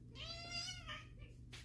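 Pet cat Kit Kat lets out a single drawn-out, whiny meow while being picked up, close and fairly quiet, followed by a brief softer rustle.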